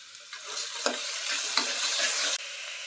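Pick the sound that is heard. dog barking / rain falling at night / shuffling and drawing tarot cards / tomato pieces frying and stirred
tomato pieces frying and stirred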